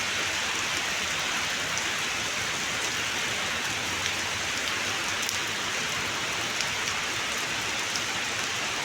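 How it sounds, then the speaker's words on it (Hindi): Heavy rain pours down in Taif, Saudi Arabia, a dense, steady hiss of drops striking surfaces that holds at the same loudness throughout, with no voices. "कितना तेज़ बारिश पड़ रहा है।"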